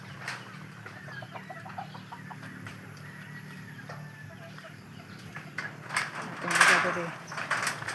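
Chickens cluck softly in the background while a person talks nearby, with a louder squawk near the end.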